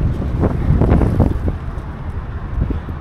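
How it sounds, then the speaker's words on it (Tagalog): Wind buffets the microphone while cycling outdoors on a windy day, a steady low rumble of gusts that swells louder early on, then settles into a softer, continuous roar. "Mahangin nga lang."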